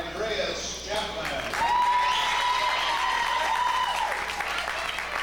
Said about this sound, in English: You'll hear a loud applause for him